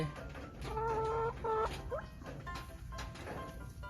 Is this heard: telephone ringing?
no